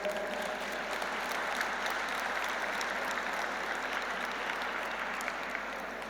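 Steady applause from an audience at a Naturopathy Day celebration, a dense, continuous wash of clapping lasting several seconds with no talk over it.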